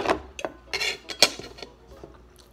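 Utensils clinking and scraping against a dish while home-cooked pancit canton is eaten, a quick irregular run of close metallic taps and clatters that thins out toward the end, with no talking.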